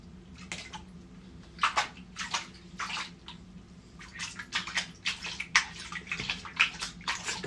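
A rose-ringed parakeet being washed in water, with intermittent splashing and sloshing close by over a faint steady hum, in irregular bursts.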